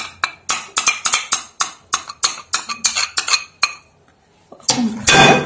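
A metal spoon scrapes and clinks quickly and steadily against a bowl as tahini is stirred and mixed for fatteh, close and bright, then goes briefly quiet before a louder clatter at the end.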